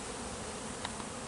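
Honey bees clustered inside a winter beehive give off a continuous, even buzzing hum, close and steady throughout, with no voices.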